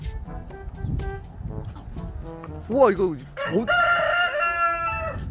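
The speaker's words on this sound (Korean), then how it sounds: "벌써 닭 소리가 들리죠?" A Brahma rooster crows loudly nearby on a chicken farm while several chickens cluck and squawk around it; a person briefly exclaims in between.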